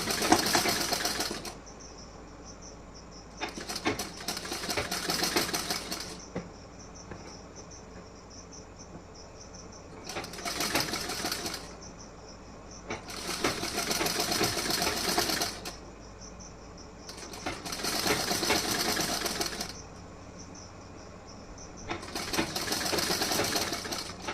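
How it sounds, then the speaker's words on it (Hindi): A sewing machine stitches a blouse in repeated bursts of a few seconds each, separated by short pauses, close and steady, with a faint continuous background hum and no talking. "यहाँ पे मैं थोड़ा थोड़ा सा कपड़ा अंदर की साइड में लेके उसके बाद सिलाई कर रही हूँ"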